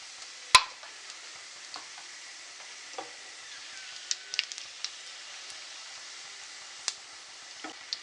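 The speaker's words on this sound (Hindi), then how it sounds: "थोड़ी देर के लिए मैं इसको रोस्ट पहले करूँगी मिर्चों को" Soft, sparse crackling and popping of dried chillies, cumin and carom seeds frying in hot oil for a tempering, with one sharp snap near the start and scattered ticks after.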